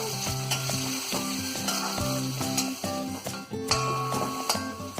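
Onions sizzling and frying steadily in a pan for a Kerala-style beef fry, a continuous crackle running underneath louder melodic background music.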